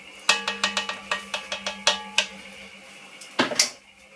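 A spoon knocks against a pot while a winter beef stew is stirred: about ten quick, evenly spaced metallic clinks, a short pause, then a few more scraping knocks, close and fairly clear.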